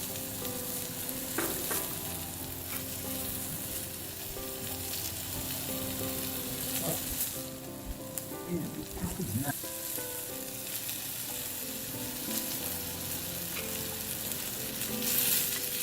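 Half a chopped onion and curry leaves fry in hot oil in a small tadka pan, a steady dense sizzle running the whole time with occasional scraping stirs, loud and close, no talking.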